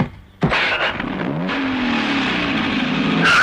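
In a Tamil film scene from Sendura Pandi, a vehicle engine catches and revs up with a rising, close, loud roar as someone sets off to drive. No voices are heard over it.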